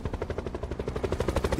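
A helicopter in Call of Duty Black Ops 4 Blackout thumps in a rapid, steady rhythmic chop, moderately loud and continuous, hovering.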